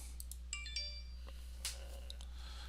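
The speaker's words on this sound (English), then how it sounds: "that's my phone telling me that I've made a PayPal purchase" Phone notification for a PayPal purchase, a few short bright chiming tones with small clinks, faint over a steady low electrical hum, no talking.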